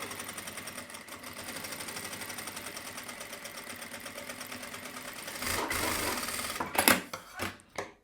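A sewing machine runs a safety seam, giving a soft, steady rapid stitching whir for several seconds, then a few louder bursts and rustling handling noises near the end.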